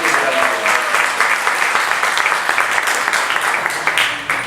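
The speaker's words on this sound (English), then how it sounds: "So give him a round of applause for that." A temple lecture audience breaks into dense, loud applause that fills the whole stretch at an even level and eases slightly at the end.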